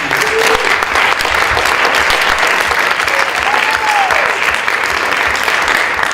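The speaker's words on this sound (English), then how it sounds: "Can I ask for another round of applause for our contestants?" A steady, loud round of applause from an audience at a high school poetry recitation contest carries through without pause, honouring the contestants.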